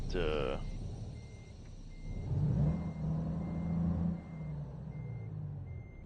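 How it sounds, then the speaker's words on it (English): A truck in American Truck Simulator starts up and creeps forward, its low engine rumble joined by a steady run of repeating reversing beeps after a short burst of voice at the start. "I'm going to have to start the truck and move a half an inch to recapture that"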